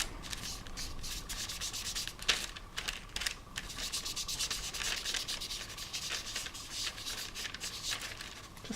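Walnut stone colour is dabbed and rubbed onto craft card for an autumn-themed card, a soft, continuous scratchy scrubbing with small taps, close and faint, with no voices.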